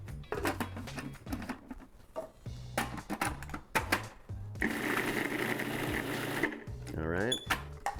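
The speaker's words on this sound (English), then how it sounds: "And I'm just gonna give this a quick little pulse." A food processor pulses capers, cheese, lemon juice and garlic in short loud bursts, with one longer whirring stretch near the end, and a voice is heard talking between the pulses.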